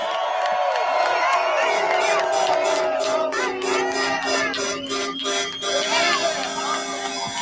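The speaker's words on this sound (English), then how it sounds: "Hats off, round of applause for Senator Ted Cruz for joining us." An outdoor rally crowd at a trucker convoy event cheers and whoops for Senator Ted Cruz, a loud, continuous roar of shouts with some clapping, and whistles and horn-like tones cutting through.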